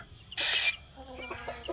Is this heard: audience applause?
no